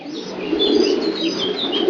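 Long-distance racing pigeons in a breeder's loft coo softly and steadily, with several birds overlapping in a low murmuring chorus and a few brief higher chirps. No talking.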